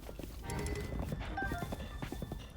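Horse hooves clip-clop in Zelda: Breath of the Wild, as steady quick hoofbeats under game music and effects, with a possible whinny.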